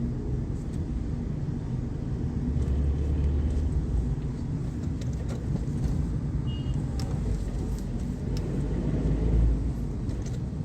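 A Tata Nexon driving on the road, heard from inside as a steady low engine and road rumble with tyre noise, continuous and moderately quiet throughout.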